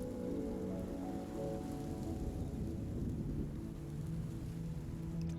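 Steady rain patters on surfaces during a thunderstorm, a dense, even hiss with low rumbling underneath, moderately faint and continuous, with no voices.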